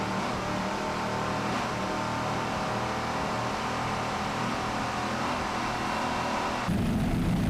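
A racing powerboat roars past during the 2002 APBA World Championships, its loud, continuous engine drone swelling into a heavier rumble toward the end.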